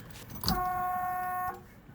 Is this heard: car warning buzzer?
yes